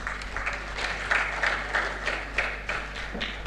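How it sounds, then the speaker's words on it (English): Applause from a symposium audience welcoming a session chair, moderate clapping in a steady wash with a few louder claps, over a constant low hum. "So welcome her with a round of applause."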